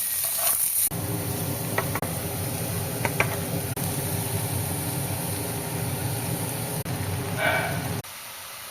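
Chopped beans, grated paneer, carrot and spinach fry in a pan with a constant low sizzle, punctuated by a few sharp spatula clicks and scrapes against the pan.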